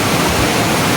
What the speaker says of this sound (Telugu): చిన్న వాటర్ ఫాల్ చూడండి